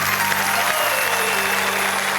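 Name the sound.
loud audience applause welcoming a poet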